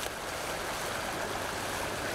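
Small waterfall in a stream pours over rocks in a constant, close splashing rush, steady and even in loudness with no voices over it.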